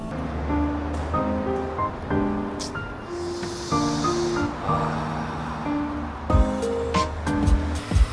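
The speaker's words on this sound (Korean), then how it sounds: "아, 내 마음처럼 또 비가 오네." Steady rain falls in a continuous soft hiss that lasts throughout, heard alongside sustained musical tones and a few sharper knocks near the end.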